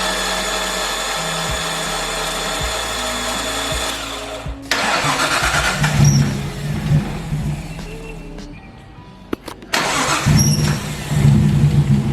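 RB25 engine in an R33 Skyline cranking and firing up for its first start, loud and close, catching after a steady whir, then idling roughly with revving surges and a brief stumble before picking up again.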